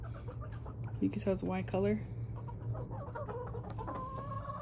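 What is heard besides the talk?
rooster clucking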